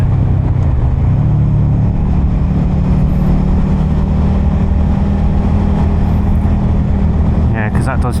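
A 2023 Suzuki SV650 motorcycle engine drones steadily at speed, a loud continuous low rumble with wind noise over it and a slight rise near the end.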